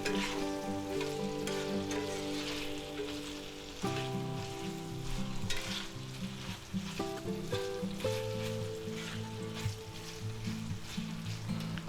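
Pheasant and quail meat stir-fried in a pan, a steady close sizzle with scraping stirs, mixed with strong tonal background music throughout.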